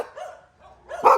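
A dog barks on a street in Chiang Mai, Thailand: two fairly close yips or barks, the second louder and sharper, with no talking over them.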